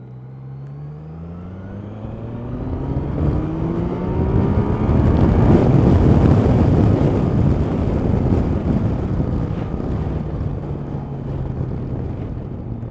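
A new 2016 motorbike ridden fast, its engine climbing steadily in pitch as it accelerates, wrapped in loud wind rush and road roar that swell and stay strong to the end.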